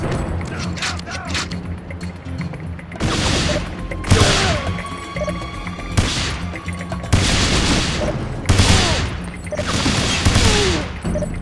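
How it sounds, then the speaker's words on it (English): Enemy gunfire in the James Bond 007: Everything or Nothing video game, with repeated bursts of automatic rifle fire and crashing impacts erupting in waves over a steady background of game ambience. "I like how he's just shooting perfectly in my direction while sprinting with the gun barrel facing a different direction."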